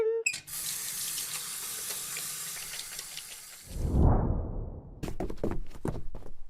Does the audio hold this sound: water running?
yes